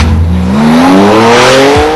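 A big Porsche supercar accelerates hard, its engine note climbing steadily in pitch through the gears, loud and close, with a brief tire squeal near the end and no talking.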